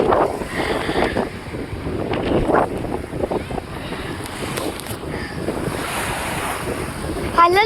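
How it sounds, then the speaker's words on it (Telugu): Small, gentle sea waves washing in at a beach, a soft continuous wash of surf mixed with gusty wind buffeting the microphone, with no voices. "అలలు చాలా చిన్నగా వస్తున్నాయి."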